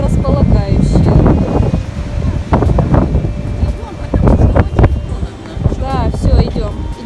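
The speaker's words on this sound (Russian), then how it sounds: "Даже хотя бы если бы не было такого сильного ветра, то было бы намного лучше." Strong, gusty wind blows steadily through a park on a cold, overcast day, a loud broadband rush buffeting the microphone for the whole stretch while people's voices are heard intermittently underneath.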